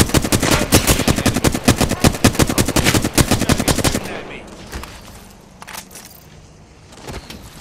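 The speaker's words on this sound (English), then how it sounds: "Getting shot at." Rapid automatic gunfire from a video game battle, a dense, loud stream of shots lasting about four seconds, then giving way to quieter scattered shots and game noise.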